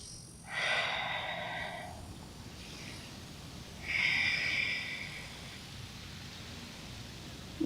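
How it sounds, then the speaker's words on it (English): Two slow, deep breaths during a yoga ragdoll pose, each a soft airy rush of about a second and a half, close and clear against a quiet room with no talking. "Breathing in and out deeply."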